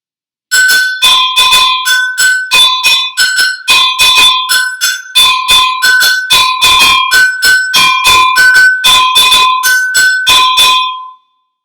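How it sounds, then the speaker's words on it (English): Two-pitched agogo bells struck in a quick repeating pattern, bright and ringing, alternating high and low tones, loud and close with no talking. "you'll hear these called the agogo bells"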